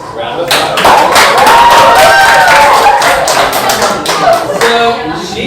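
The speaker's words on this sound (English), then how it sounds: "let's give her a nice big round of applause" Classroom students clap for a singer, a burst of scattered hand claps and taps mixed with excited voices and chatter, fairly close and loud.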